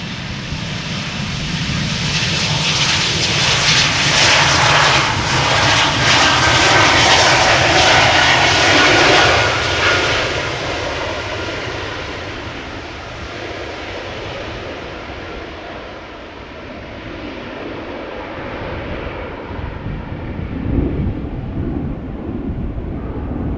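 A KLM jet airliner departs Amsterdam Schiphol Airport with a loud, broad roar that builds close by, then fades into a distant rumble as it climbs, with wind buffeting the microphone.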